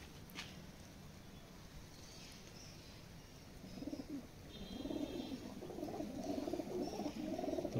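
Pigeon cooing from a pilanka (red-eyed) pigeon, low soft coos that start faint and grow louder and more continuous over the second half, close by, with no talk.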